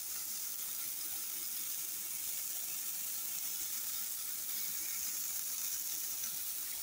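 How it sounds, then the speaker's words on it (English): Smash burgers sizzle on a Blackstone griddle, a loud, steady, close hiss and crackle of frying meat that runs unbroken throughout with no voices. "Listen to that sizzle."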